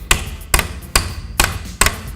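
A hammer drives a nail into a wooden stud to mount a light fixture box, five sharp, loud strikes in a steady rhythm about half a second apart, each ringing briefly.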